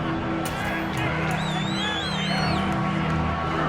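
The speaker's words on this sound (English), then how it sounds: "The crowd getting into it as we come up on a big third down." Crowd noise in an American football video game, Dolphins versus 49ers, a steady roar of cheering and whoops from a large stadium audience ahead of a big third down, with whistles rising over the din.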